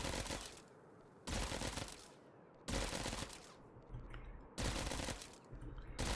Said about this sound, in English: that's the sound for the blaster pistol